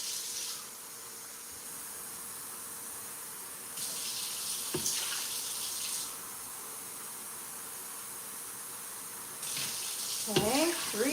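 Tap water runs steadily into a measuring cup in a kitchen, filling 4.5 cups of water for cooking rice, with a few light clinks and shifts of the flow and no talk over it.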